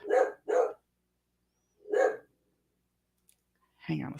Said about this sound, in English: Unfortunately, the dog is barking.